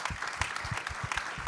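An audience at a panel claps for City of Boston staff, a brief dense round of applause from a moderately sized room, even and continuous.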